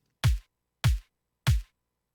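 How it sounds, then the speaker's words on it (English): A processed kick drum hits three times at an even, moderate pace. Each hit is punchy and deep, with a short bright click and silence between the hits. "So kick now sounds like this."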